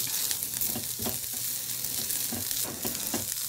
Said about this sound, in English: heat the oil in the wok or a frying pan, and I'm going to add my carrots to this and saute this